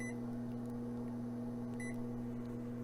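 Power button on a Smeg OTR316XU over-the-range microwave, giving two short, clear beeps over the steady hum of the running oven, with no talking.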